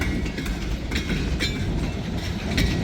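A freight train carrying scrap iron, center-beam cars and four tanker cars rolls past on a very windy day, a continuous close rumble with rhythmic clacking of wheels over rail joints throughout.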